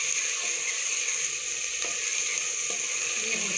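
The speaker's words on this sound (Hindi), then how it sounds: "जीरे को 1 से 1 मिनट के लिए हम लोग इसके अंदर अच्छी तरह से फ्राई कर लेते हैं।" Cumin seeds frying in oil in a pan give a steady, loud, bright hiss that stays even throughout, close up with no talking.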